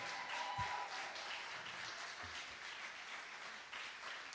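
An audience at a publication celebration in an arts and culture complex breaks into steady applause, a moderately distant wash of clapping that holds evenly with no talking.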